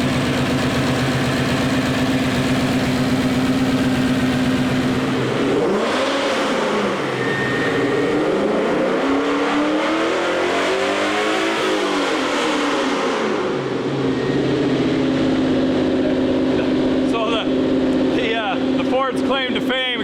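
A Ford Boss 302 V8 swapped into a 2005 Mustang idles with a steady, deep, close rumble throughout, its pitch lifting and falling briefly midway, while voices talk over it.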